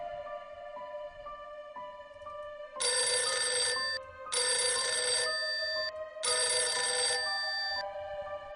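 An apartment intercom rings loudly as a horror-story sound effect: a quiet lead-in tone, then three long bright electronic ringing bursts of about a second each, separated by short pauses.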